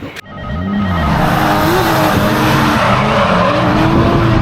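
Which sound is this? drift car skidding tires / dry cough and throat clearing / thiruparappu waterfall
drift car skidding tires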